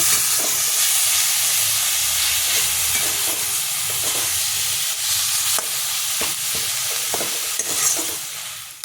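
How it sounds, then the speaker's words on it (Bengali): Onion and garlic fry steadily in hot oil with cumin seeds and dried red chilli, a continuous loud sizzle broken by occasional stirring scrapes, with no talking. "পেঁয়াজ রসুনটা ভেজে নিয়ে"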